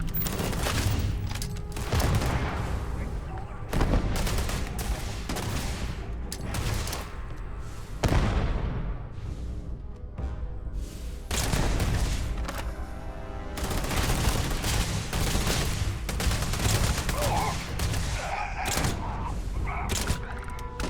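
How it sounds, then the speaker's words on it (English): Repeated bursts of gunfire from a hard-kicking gun in the space game Starfield, sharp shots and rapid volleys with booming impacts and short gaps, loud and close throughout. "Damn, this gun kicks."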